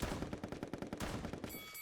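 Rapid gunfire from the video game Pummel Party, a dense burst of quick repeated shots like an automatic weapon, loud and continuous for under two seconds before a bright tonal effect.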